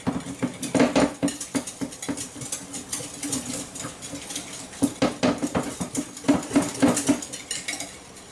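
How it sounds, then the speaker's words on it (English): A whisk beats a salad dressing with celery seed, ginger and lime in a bowl, giving a close, steady run of quick metallic clinks and scrapes that swell in bursts throughout. "we're going to bring in my whisk here and whisk this together"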